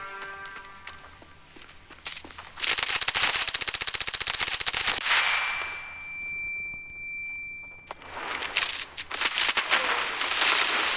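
A P90 submachine gun fires in the mobile shooter game Standoff 2 in rapid full-auto bursts, loud and close, with a brief gap carrying a tonal game effect before the firing resumes.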